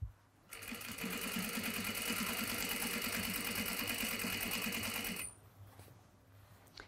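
A sewing machine top stitching denim for a tote bag runs in one continuous burst of about five seconds, a fast even needle chatter with a motor whine, close, then stops to a quiet room.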